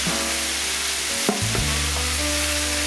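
Corned beef and potato hash reheats in a pan with a loud, steady sizzle up close, broken by a couple of soft scrapes as a spoon stirs it through.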